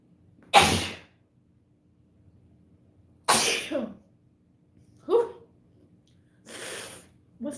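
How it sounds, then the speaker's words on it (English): Four sharp sneezes, spaced a few seconds apart, burst out loudly in an otherwise quiet room. "Oh, I gotta sneeze too."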